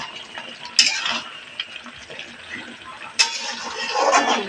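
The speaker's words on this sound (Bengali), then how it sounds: "আর এই যে একটু নেড়ে দিলাম" Lentil gravy is stirred in a pot, with a few scraping clinks of the spoon against metal standing out over a soft background, including one sharp clink near the start and another later on.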